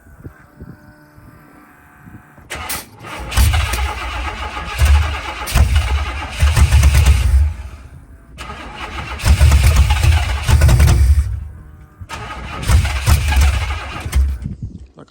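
A Monte Carlo SS with a suspected fuel pump or carburetor problem cranks and catches several times. Three loud bursts of engine rumble are each separated by short pauses, with a faint whir in between.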